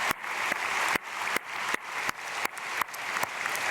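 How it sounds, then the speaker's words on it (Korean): Applause in a church congregation: a short burst of clapping with about nine sharp, evenly spaced claps rising over a crowd patter. "박수로 축복하겠습니다"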